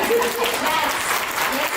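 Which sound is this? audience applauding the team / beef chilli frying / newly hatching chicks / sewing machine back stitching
audience applauding the team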